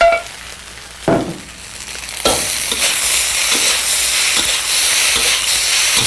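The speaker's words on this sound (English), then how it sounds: "Saute them all up, mix them all together" Vegetables and fluffy cooked rice being sautéed together in a hot pan, a loud, continuous close sizzle broken by a few scraping stirs and clanks near the start, no talking.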